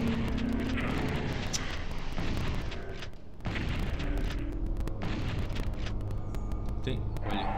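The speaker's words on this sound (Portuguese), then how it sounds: "Peraí, peraí, é uma metralhadora?" Machine gun fire in the video game Doom 64, a steady rapid rattle under game noise and rumbling booms, loud and nearly continuous with one short lull midway.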